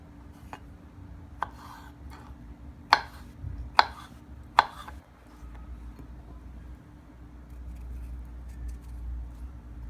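Vegetables are chopped into medium pieces for a salad: five crisp knife taps at uneven intervals in the first half, close by, then a steady low background hum with no cutting.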